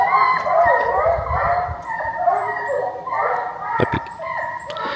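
A pack of hunting hounds bays and howls on the scent in a park, the long drawn-out cries loud and overlapping for the whole stretch, with scattered yelps and some rustling underneath.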